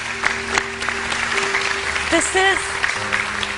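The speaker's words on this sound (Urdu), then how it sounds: "لیٹس ویلکم ڈھیر ساری تالیوں میں ڈاکٹر مزنہ ابراہیم" Studio audience on a morning TV show clapping to welcome a guest, a moderate wash of applause running under a host's voice, with brief tonal music or sound effects partway through.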